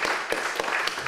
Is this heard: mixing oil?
no